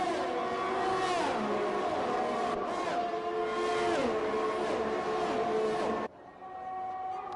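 Two Ferrari Formula 1 cars run nose to tail out of the Lesmos corners at Monza in an F1 racing game, their high-pitched engines wailing and shifting loudly and steadily, then cutting off abruptly as a quieter engine drone continues.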